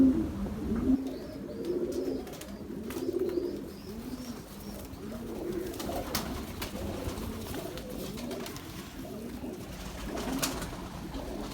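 Pigeons in a breeding cage cooing steadily, layered soft throaty coos close by with a few faint chirps, continuing throughout with no voices.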